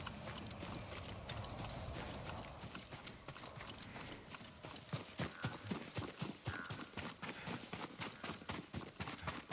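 Horse hooves clip-clop in the samurai action game Ghost of Tsushima, Yuriko's horse approaching through dense ambient noise, the steady rhythmic hoofbeats growing clearer and louder in the second half.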